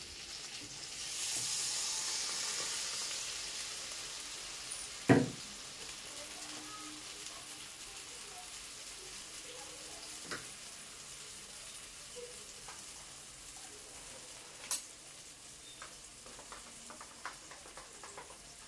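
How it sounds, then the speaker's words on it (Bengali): Fish curry in mustard paste water bubbles and simmers softly in a pan, a low steady hiss with a few isolated knocks of a utensil against the pot. "দেখুন মাছটা ফুটে উঠেছে,"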